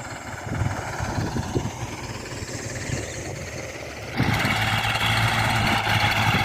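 Kubota L5018 tractor engine running while tilling sugarcane stubble, a steady diesel drone with mechanical rattle that jumps louder and smoother partway through, no talk.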